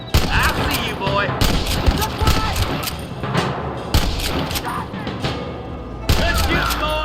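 Gunfire from a shootout in the video game Red Dead Redemption: repeated loud shots and booming blasts fire in bursts throughout, with shouted voices mixed in among them.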